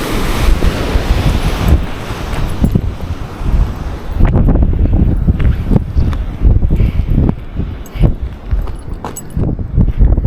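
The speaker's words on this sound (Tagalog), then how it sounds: "kasi ang lalakas ng alon eh" Strong ocean waves crash on a rocky shore at Polipol Beach, loud and close, with heavy wind buffeting the microphone and repeated surging roars and splashes.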